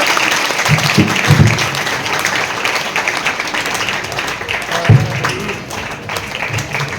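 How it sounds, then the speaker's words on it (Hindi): Schoolchildren clap to welcome their teachers at a Teachers' Day event in an Anglo-Urdu high school hall, a long continuous wash of applause with a few low thumps and bumps mixed in. "तालियों की आवाज आनी चाहिए बच्चों"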